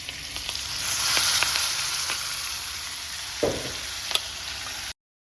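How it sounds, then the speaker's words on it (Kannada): Marinated chicken frying in oil and butter with curry leaves, a steady close sizzle with occasional stirring knocks and pops. "ಎಣ್ಣೆ ಮತ್ತು ಬಟರ್ ಹಾಕಿಬಿಟ್ಟು ಅದರಲ್ಲಿ ಒಂದು ಸ್ವಲ್ಪ ಕರಿಬೇವು ಹಾಕಿ ಒಗ್ಗರಣೆ ಕೊಟ್ಟು"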